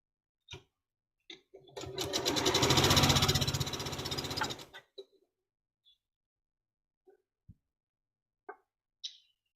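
A sewing machine stitches red fabric at a quilting session, running in one steady burst of about three seconds, framed by a few sharp clicks and taps in otherwise quiet surroundings.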